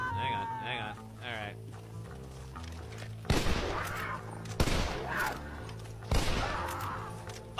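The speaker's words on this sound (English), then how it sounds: "I was trying to shoot the cougar" Gunshots fired at a cougar in the video game L.A. Noire: three loud, sharp reports spaced over several seconds, each ringing out briefly, following quieter game sounds.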